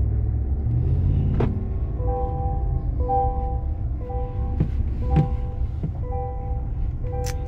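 A 2022 GMC Sierra 1500 Denali pickup engine rumbles steadily at low pitch, close by, as the truck drives slowly, with faint tonal beeps and clicks over the drone.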